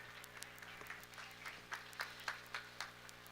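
Scattered audience clapping at a county fair breeding beef show with Angus heifers in the ring, faint and somewhat distant, with a series of sharper claps building toward the end.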